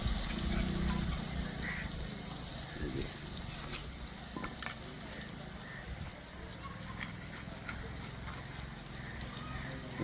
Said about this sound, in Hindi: ये देखिए कितनी सुंदर तड़का लग रहा है दाल में।